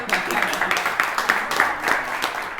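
A live debate audience breaks into steady applause, a dense patter of many hands clapping for a few seconds with faint voices mixed in.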